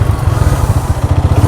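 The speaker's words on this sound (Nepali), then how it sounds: "ल मैले स्टार्ट गर्नको जाँदैछु। ल साइलेन्सर त बबाल पड्किँदो रहेछ" Close, loud Renegade motorcycle exhaust right after starting, chugging in rapid uneven pops and backfires from a misfiring engine with no talking.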